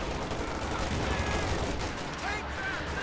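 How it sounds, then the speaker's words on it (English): Machine gun fire in Company of Heroes 2, a WWII strategy game, rattles as a dense, continuous crackle of overlapping bursts that stays loud throughout, with other battle noise mixed in. "And they have an MG there."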